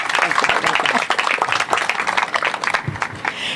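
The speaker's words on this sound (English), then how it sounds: "let's have a nice round of applause for Mayor Castex Tatum." A burst of applause from a crowd at an outdoor trail groundbreaking ceremony in Houston, steady clapping filling the whole stretch with a little chatter mixed in.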